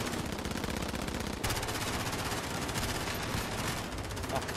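Sustained automatic gunfire from Call of Duty: Warzone, a loud rapid rattle of bursts with a brief pause, then heavier firing that carries on to the end.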